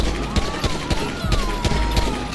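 Rapid pistol gunfire in the video game GTA Online cracks out as a string of sharp shots over busy in-game noise and a low engine drone.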